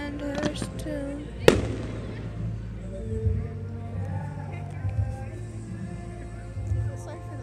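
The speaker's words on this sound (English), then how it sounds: "They can't see the fireworks." Fourth of July fireworks in Mansfield, Texas boom at a distance, one sharp loud crack standing out among scattered duller pops, while people talk and chatter nearby throughout.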